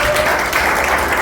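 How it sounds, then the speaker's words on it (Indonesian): Brief burst of audience applause at a first-anniversary church service gathering, a dense steady wash of clapping filling the short moment. "tepuk tangan buat mereka"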